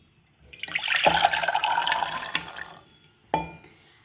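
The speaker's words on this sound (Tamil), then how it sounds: "நான் ஊற வச்ச தண்ணியை சேர்த்துக்கிறேன்." Soaking water from overnight-soaked chickpeas poured into a pressure cooker for chana masala, a steady liquid splash and trickle for about three seconds, then a short sharp clink near the end.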